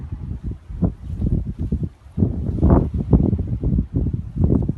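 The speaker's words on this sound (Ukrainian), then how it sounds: "Ну, тут трактор в полі." Tractor engine rumbling while working a field next to a garden plot, a continuous low, pulsing drone of moderate loudness with brief dips, heard from a middle distance alongside wind.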